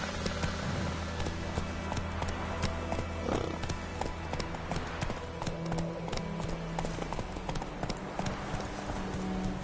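Roach the horse gallops in The Witcher 3, hooves clip-clopping in a steady quick rhythm close by, mixed with game ambience and faint rider vocalizations throughout.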